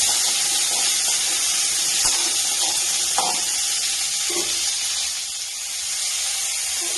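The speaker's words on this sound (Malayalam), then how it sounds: "ഇതിലേക്ക് ഒരു നൂറ്റമ്പത് ഗ്രാം ചെറിയ ഉള്ളി കിട്ടിയെടുക്കുകയാണ് ഒന്ന് വഴറ്റിയെടുക്കാം" Small onions sautéing in a hot pan for a ladyfinger turmeric curry, a steady close hiss and sizzle of frying running throughout with a few faint clicks, no voices.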